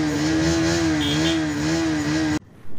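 A TVS Raider motorcycle, alongside an NS125 and an R15, sets off at full power. A loud, close, steady engine drone rises and wavers slightly in pitch for over two seconds, then cuts off abruptly.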